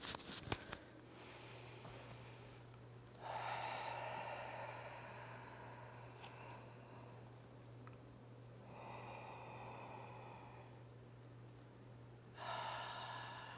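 Slow, quiet breaths come during yoga cat and cow spine stretches, with three long airy inhales or exhales spaced several seconds apart against a faint steady hum.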